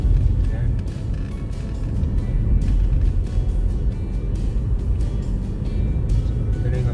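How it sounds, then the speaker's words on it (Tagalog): Road traffic on Visayas Avenue in Quezon City, a steady low rumble of passing cars and engines close by, with a voice talking over it. "Ang traffic pala dito."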